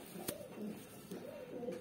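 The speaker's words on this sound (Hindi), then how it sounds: "ये नर कबूतर है, अच्छे क्वालिटी का नर है" A male Kalankha pigeon coos softly in a few rolling, throaty phrases, close by and fairly faint against light background noise.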